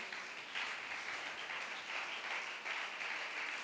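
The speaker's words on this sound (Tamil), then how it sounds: "நல்ல கையை தட்டி ஆரவாரம் பண்ணுங்க." A church congregation claps and cheers together in a steady, dense wash of applause that swells slightly in waves, filling the room at moderate distance without pause.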